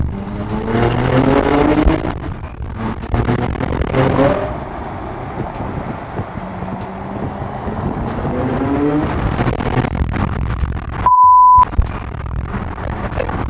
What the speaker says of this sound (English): let's do a pull first, so you can hear the Kline Innovation exhaust